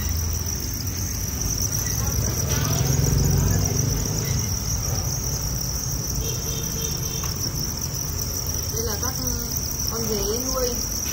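Farmed crickets trill steadily and densely, a continuous high chirring chorus close by, with faint movement noises and no clear talk.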